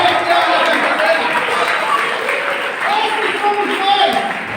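Sustained clapping from a large church congregation during a sermon, steady and dense throughout, with voices and cheering mixed in.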